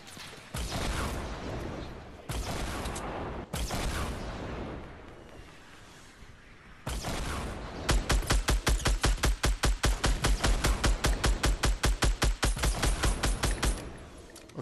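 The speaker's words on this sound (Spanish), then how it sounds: "Están tirando rocket, Isaac." Rockets launched in the Fortnite battle royale game, several heavy blasts with whooshing tails followed by a long rapid burst of evenly spaced loud shots, all close and dominating.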